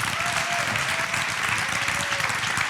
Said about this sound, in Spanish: un aplauso Vale. para Andrés